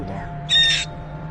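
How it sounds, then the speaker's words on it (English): A parrot lets out a single loud, shrill high-pitched scream lasting about a third of a second, clear and close over a quiet background hum. "Look at the screams, the high-pitched screams."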